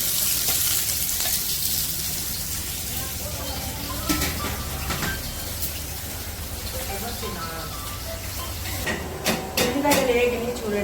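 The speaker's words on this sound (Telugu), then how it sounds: "ఉల్లిగడ్డలు వేగిని చూడండి." Onions frying in a pan, a steady sizzling hiss running throughout at moderate level, with some clinks and stirring noises and a voice talking over the cooking.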